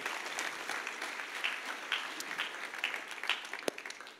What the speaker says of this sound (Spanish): Dale un aplauso bien fuerte al Rey de Reyes y Señor de Señores